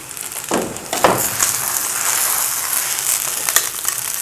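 Aloo paratha frying on a hot pan, a steady close sizzle with a few sharper crackling spikes, heard alone with no voices.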